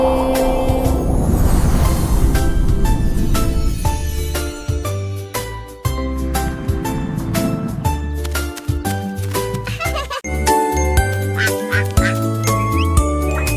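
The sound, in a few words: duck quacking in children's song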